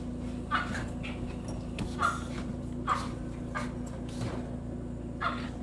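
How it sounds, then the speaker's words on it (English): A dog lets out several short, single barks, spaced irregularly at moderate distance over a steady low background hum, with no talking. "barks at them until they stop"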